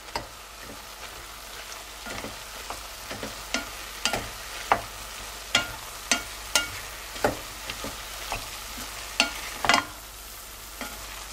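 A spoon stirs seasoning through beef chili in a pot, making steady scraping strokes with regular knocks against the side over a low simmering sizzle.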